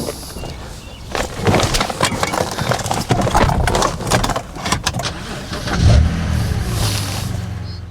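A BMW E90 330i with the N52 engine driving along, its engine note steady and continuous with some rumble, close and moderately loud, and no talk over it.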